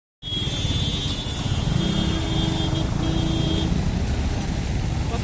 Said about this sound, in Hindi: नॉइज बहुत ज्यादा था ट्रैफिक का